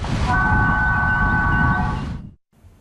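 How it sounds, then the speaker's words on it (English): Toy model train running on track at a toy train museum, a steady near rumble with a sustained horn-like tone, ending abruptly before a faint tail. "just as she hears his train"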